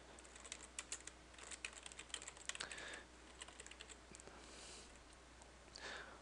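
Someone types on a computer keyboard while writing Java code. The keystrokes come as quick, irregular, fairly close clicks with short pauses between runs, and no voice is heard.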